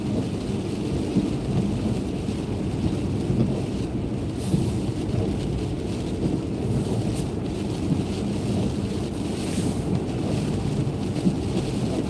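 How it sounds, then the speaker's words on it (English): Mixed rain and snow coming down steadily outdoors in the Pacific Northwest, a dense continuous hiss and patter with gusty wind rumble on the microphone. "mixed rain and snow coming down now."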